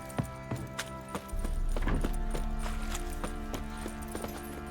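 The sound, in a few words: horse Roach hooves in video game The Witcher 3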